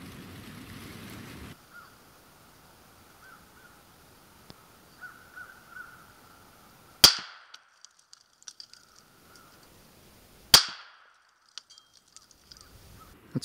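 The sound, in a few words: rifle gunshot while zeroing a thermal scope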